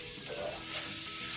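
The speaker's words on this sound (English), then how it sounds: "putting the onion in this right after cooking this beef sausage is going to be so good" Onion fries in leftover beef sausage grease in a skillet, giving a steady, hissing sizzle that swells slightly midway, with no voices.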